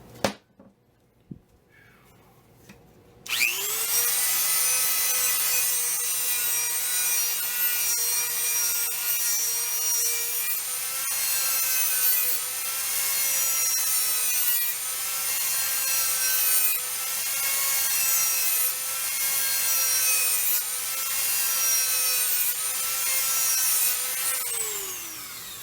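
A Dremel rotary tool grinds against a knife blade, starting with a few clicks before spinning up to a loud, sustained high-pitched whine that wavers slightly as it bites the steel for over twenty seconds, then cuts off.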